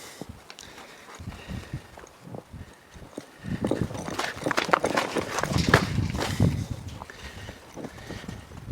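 Hooves clop on the ground, quiet at first and then louder and denser as several young horses being started under saddle move past at a walk.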